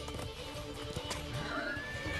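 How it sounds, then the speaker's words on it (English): A war horse neighs in the video game Rangers of Oblivion, a clear whinny with clip-clop hoofbeats and a rising tonal call near the end, close and steady. "This horse is gonna be ours."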